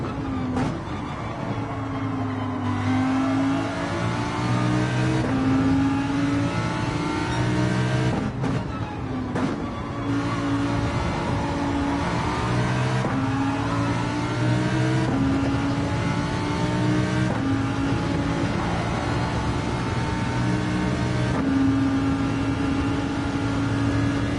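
Race cars in a racing video game: engine notes rev up and shift through gears again and again, a loud, steady drone with rising and falling pitch sweeps over about twenty-four seconds and no voices.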